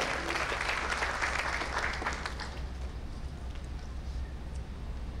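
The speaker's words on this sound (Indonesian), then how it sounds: "Beri tepuk tangan buat Tuhan." A church congregation applauds in praise, steady dense clapping from a crowd that stays fairly even throughout before easing slightly toward the end, with no talk over it.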